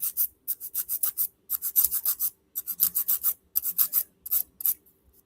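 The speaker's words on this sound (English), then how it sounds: "So what you would do is really going in and filing the sidewalls." A nail file rasps along the sidewalls of an acrylic nail in quick, even back-and-forth strokes, close and crisp, grouped in short rhythmic bursts with brief pauses between.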